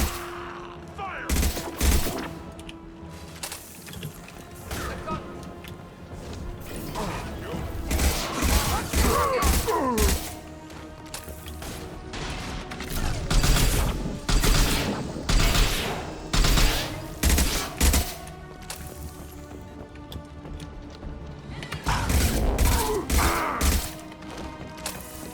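Combat in Mass Effect 2 with repeated bursts of gunfire and heavy impacts, loud and close, coming in clustered volleys throughout.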